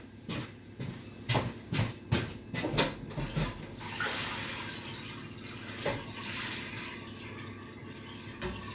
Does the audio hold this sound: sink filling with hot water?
yes